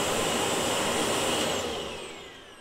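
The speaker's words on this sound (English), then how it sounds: "We're going to turn it on so you can hear the noise of the vacuum." A 1200W ash vacuum cleaner with a 20-litre tank runs at close range, giving a steady, loud roar with a high whine. It eases off slightly toward the end.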